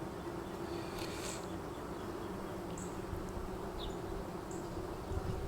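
Honeybees swarm around an open hive fitted with double screen boards in a garden, a dense continuous drone close by, with a few louder buzzes as single bees pass near, and no talking.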